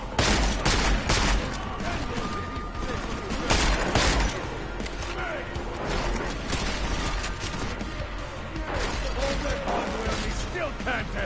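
Rapid, dense gunfire from Deus Ex: Mankind Divided, with sharp shots and bursts clustered throughout, a steady layer of game noise beneath, and voices talking over the action.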